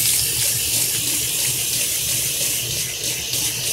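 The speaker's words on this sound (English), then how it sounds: "rinse off the mat" Tap water runs steadily and loudly into a sink while a makeup brush cleaning mat is rinsed, a continuous close gushing stream without speech.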